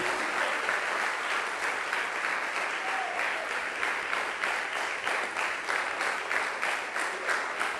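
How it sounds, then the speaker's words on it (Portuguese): Congregation at a church service claps continuously, a steady patter of many hands with a slightly rhythmic pulse, moderately distant and unbroken, with no voice over it. "Aplauda Jesus Cristo."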